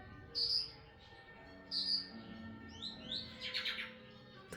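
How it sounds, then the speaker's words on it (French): Baby lorikeets born in January 2026 at a tropical park give several short, bright chirps at irregular intervals, with a quicker cluster of high tweets near the end, set against a low, steady background murmur. "on a les bébés loriquets nés en janvier 2026"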